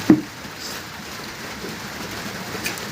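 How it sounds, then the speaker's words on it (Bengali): Rain falls steadily outdoors as a faint, even hiss that carries through the whole stretch, with one soft knock near the start and no voices. "বাইরে হচ্ছে বৃষ্টি"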